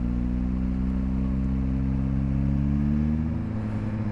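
Suzuki GSX-R 1000 motorcycle with an Akrapovic exhaust, its engine humming steadily at close range in a deep, continuous drone with a slight rise in pitch near the end, no voices present.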